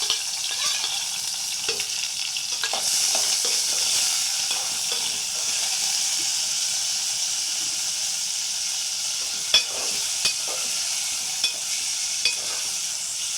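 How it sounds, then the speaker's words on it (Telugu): Onion, tomato and green chilli sizzle steadily in a hot pan for chicken skin curry, a broad continuous frying hiss with a few sharp spoon clicks and scrapes toward the end, with no talking. "మొత్తం ఉల్లిపాయ టమాటా పచ్చిమిర్చి వేసేసుకొని కొంచెం ఫ్రై చేసుకోవాలి"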